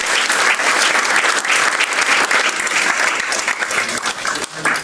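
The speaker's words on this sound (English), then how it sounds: "So if we could give them a round of applause." A crowd at an event claps loudly and steadily for about five seconds in a dense burst of applause. It thins slightly at the end, and no one talks over it.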